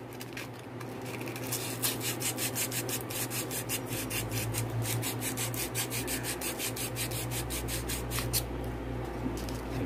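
Hand sanding of a suspension arm on a car after pressing out a bushing, a steady, continuous close-up rasping scrape with rhythmic strokes running throughout, no talking.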